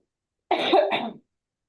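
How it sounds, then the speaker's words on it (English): A single short cough burst, close and fairly loud, about two quick hacks run together, then silence. "have some cough over here"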